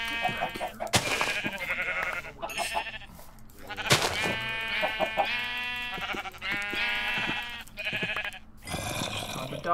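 Sheep in the Minecraft video game bleat over and over in quick, overlapping, loud cries that fill the whole stretch, with brief gaps and a few thumps between them.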